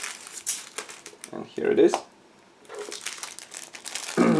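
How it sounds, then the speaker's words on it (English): A sealed plastic bag holding model kit parts for a 1/700 Flyhawk HMS Penelope cruiser is crinkled and cut open, giving close bursts of crumpling plastic between short stretches of speech. "give me a second to open the next plastic bag. Here it is, because it is a sealed bag and therefore I will need to cut through."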